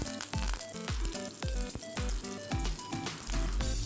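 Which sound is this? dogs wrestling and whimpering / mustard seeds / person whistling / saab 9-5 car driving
mustard seeds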